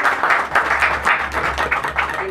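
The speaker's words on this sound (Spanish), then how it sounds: "a quien pido un fuerte aplauso" An audience applauds the musician Alfonsito at a peña, clapping loudly and close in a dense burst that rises and falls in uneven waves for about two seconds, with no talk over it.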